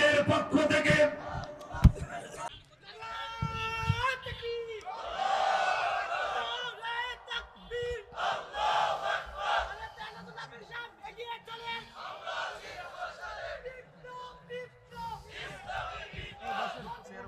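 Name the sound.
crowd shouting takbir response at religious gathering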